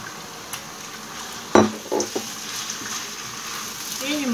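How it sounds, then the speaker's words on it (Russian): Chicken thigh fillet frying with onion in a pan, a soft sizzle under a few clinks and scrapes of a utensil stirring against the pan. "И немного обжариваем с ним. Пока мясо не поменяется в цвете, не станет белым."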